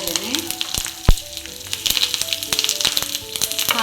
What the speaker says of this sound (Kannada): ಕರಿಬೇವು ಮತ್ತು ಒಣಮೆಣಸನ್ನು ಆ್ಯಡ್ ಮಾಡ್ತಾ ಇದ್ದೇನೆ.